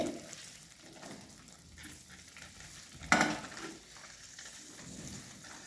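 Moong dal and washed spring onion greens being stirred together in a pan, a soft continuous scraping and sizzle with one sharper clatter of the spoon partway through, fairly quiet and with no voice.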